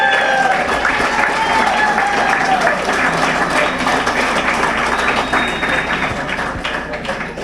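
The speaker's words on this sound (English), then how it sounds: "Let's give him a round of applause." Audience applause at a Trump victory party rally greets Howie Carr, a dense sustained wash of clapping with faint cheering and voices underneath that tapers slightly near the end.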